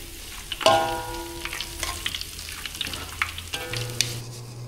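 Garlic frying in hot oil in a pan, a steady bright sizzle with occasional clinks and scrapes of a utensil stirring, close and clear with no talking.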